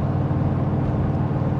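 A turbocharged Chevrolet Silverado engine cruising at about 2200 RPM gives a steady, loud low rumble heard from inside the truck, unbroken and without speech.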